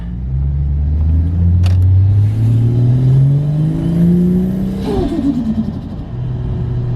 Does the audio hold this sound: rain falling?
no